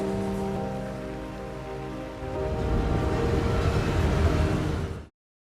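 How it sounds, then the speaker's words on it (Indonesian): Heavy rain pours down in a film scene, a dense steady hiss with a low rumbling bed that swells louder partway through, with no talk over it. "Hujan deras mengguyur Ray beserta Peter."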